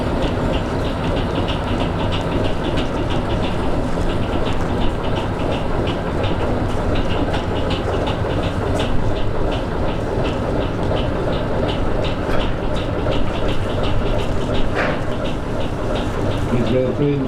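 A heritage train on the Great Central Railway, a steady loud mechanical rumble with a regular clicking rhythm running continuously, close by, with no pauses.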